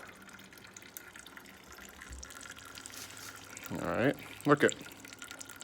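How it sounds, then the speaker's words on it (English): Water from a slope erosion model pours and trickles into a bucket, a low running wash that swells near the end, with a person speaking briefly over it. "it is pouring into our bucket"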